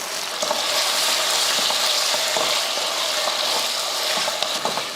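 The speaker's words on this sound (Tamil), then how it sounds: "உருளைக்கிழங்கு போட்டு வதக்கியாச்சு" Potatoes with onions sautéing in a pan for a puri kurma gravy, a steady dense sizzle with soft stirring scrapes throughout, close and continuous with no talking.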